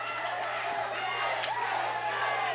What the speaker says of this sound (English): And this crowd jacked up for Cedric Alexander now